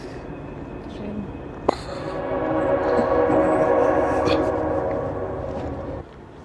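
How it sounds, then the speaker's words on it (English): A train rumbles past near a river, a broad steady roar that swells after a sharp knock and fades toward the end, heard outdoors at moderate distance. "Oh, you can hear the train."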